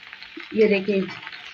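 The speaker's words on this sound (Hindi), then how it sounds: "चम्मच में हिला के दिखाएं इनको ऐसे।" A spoon stirs fried okra in a pan, giving a soft scraping shuffle with a light sizzle, moderately close and brief, while a voice talks over it.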